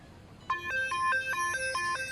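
A mobile phone ringtone chimes out in a bright, repeating melodic pattern of short tones, starting abruptly and looping steadily at close range with no one talking over it.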